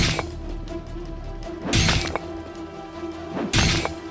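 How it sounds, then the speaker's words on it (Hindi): Two loud crashing stone blows strike a metal lock, the second shattering it, over a steady low musical drone in a horror story scene. "राशि ने लॉक पर पत्थर से वार करना शुरू किया"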